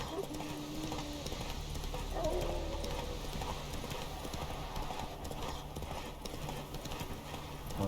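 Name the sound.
horse hooves while riding in The Witcher 3 video game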